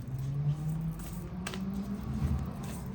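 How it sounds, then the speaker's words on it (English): A truck passes outside, heard as a low, steady rumble that swells slightly and then eases. It stays faint and distant, with no voices over it. "Sorry if you hear loud noise. Truck outside."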